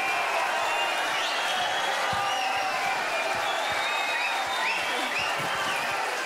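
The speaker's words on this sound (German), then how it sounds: "Das ist dein Applaus" Sustained audience applause and cheering fill an open-air concert in Zofingen after a performance, a dense, even wash of clapping with scattered whistles and shouts throughout.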